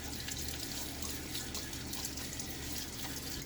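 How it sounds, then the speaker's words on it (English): Water runs and splashes steadily from a tap at a sink as a man wets his face before a shave, a continuous close rush with no talking. "throw some water on my face"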